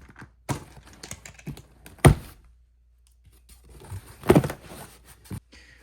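Cardboard box sealed with duct tape being pulled open by hand, with a few sharp tearing rips and thuds among softer rustling, close and moderately loud with no talking.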